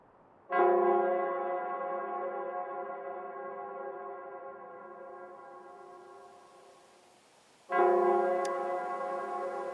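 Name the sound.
Nell Square bell ringing in the video game Wuthering Waves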